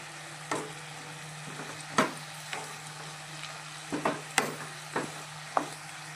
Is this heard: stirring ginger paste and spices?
yes